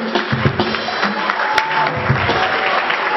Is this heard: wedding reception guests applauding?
yes